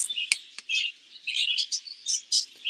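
Small parakeets in an aviary chirp and tweet close by, a busy run of short, high, bright calls coming one after another with tiny gaps between them.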